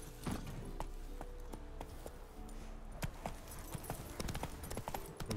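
A horse's hooves in The Witcher 3, a steady, quick clip-clop of hoofbeats under faint background sound with scattered louder hoof strikes, continuing throughout at moderate volume.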